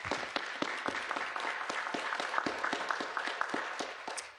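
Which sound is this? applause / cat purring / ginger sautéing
applause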